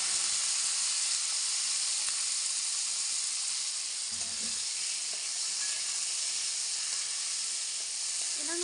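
Peeled tomatoes fry in a small amount of oil, giving a loud, steady sizzling hiss that carries on without a break, with a few faint knocks underneath.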